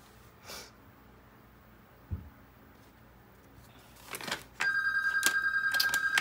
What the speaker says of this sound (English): We're going to ignore that phone call